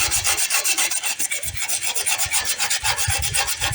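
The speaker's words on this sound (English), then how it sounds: "And yes, I am sanding the solar plastic glass also." Repeated rasping strokes of sandpaper on the plastic cover of a solar outdoor light, steady back-and-forth rhythm, close and fairly loud with no talking.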